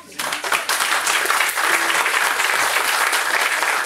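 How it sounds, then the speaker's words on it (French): An audience at an entrepreneurship conference applauds a speaker, steady, crowded clapping that starts abruptly and holds at full strength for several seconds. "on peut applaudir Claire."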